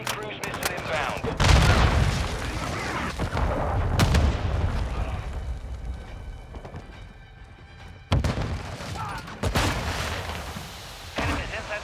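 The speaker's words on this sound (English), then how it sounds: "Friendly cruise missile inbound." A friendly cruise missile strike in a military video game, heavy booming blasts and rumbling impacts in several bursts with quieter stretches between them, amid sounds of battle.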